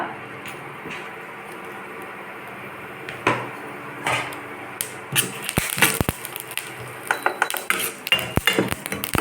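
Mustard seeds and chilies tempering in hot oil for cabbage kootu, a steady low sizzle with sharp popping crackles and utensil clinks that grow busier and louder toward the end.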